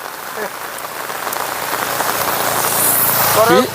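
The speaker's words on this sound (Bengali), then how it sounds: "মানে বৃষ্টি ঝিরঝির বৃষ্টি" Light drizzling rain patters over a village near the India–Bangladesh Feni border in the morning, a soft continuous hiss that slowly grows louder, with a voice speaking briefly over it.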